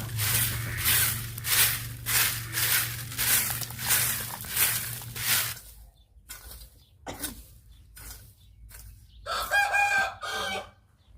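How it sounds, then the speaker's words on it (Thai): A rooster crows loudly and repeatedly in a rural setting in Savannakhet, Laos, with rapid pulsing calls first, then a pause with a few scattered sounds and another crow near the end. "ไก่ขันยำแรงนะทุกคน"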